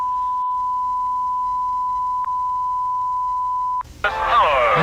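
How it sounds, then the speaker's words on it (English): Steady continuous beep tone holding for nearly four seconds, briefly interrupted, then cut off as a loud high-pitched squealing, noisy sound takes over. "I don't like the beeping. I really don't like the beeping."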